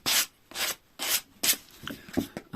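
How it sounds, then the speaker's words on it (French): Filler plaster on a wall being hand-sanded in five or six long rasping strokes, each a broad burst separated by short pauses, close and alone with no talk. "je suis en train de poncer l'enduit"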